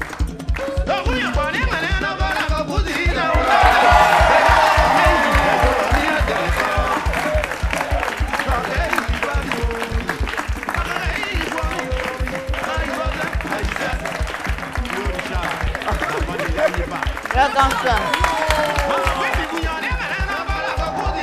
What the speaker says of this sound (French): On applaudit très fort pour le vieux Ménécré